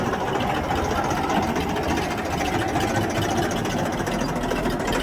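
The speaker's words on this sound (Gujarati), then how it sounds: "હાડો તો ટ્રેક્ટર નીકળી જાય ને આપણે ભરવા માંડીએ" A tractor engine idles at an agricultural market yard, a steady, dense mechanical rumble that runs unbroken from start to finish at an even, moderate loudness, with no other sound standing out.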